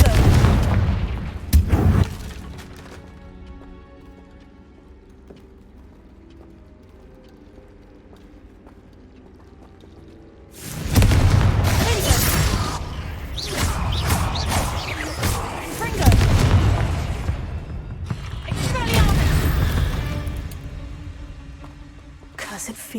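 Confringo fire-spell explosions in the Hogwarts Legacy video game: a quiet stretch breaks into a long run of loud, heavy booming blasts and crashes, close and layered over one another.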